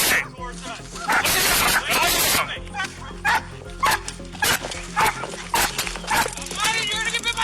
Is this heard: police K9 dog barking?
yes